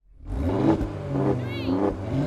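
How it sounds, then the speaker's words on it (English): Engines roar and rev steadily as a BMW M8 drag races a Ferrari and a Nissan GT-R, a loud continuous mechanical drone with rising whine, no voices. "This M8 is destroying a Ferrari. And a GTR."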